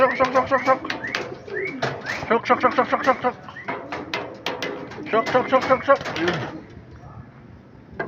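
Racing pigeons coming into the loft during a race, with repeated cooing and wing flutters and knocks close by, while someone talks over the birds throughout.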